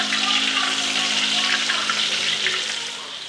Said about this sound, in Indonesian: Ntar ya, saya ambil dulu air untuk rebusan ini.